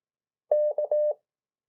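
Morse code letters keyed at 14 words per minute, a clean single tone forming a short burst of dots and dashes, close and clear against silence.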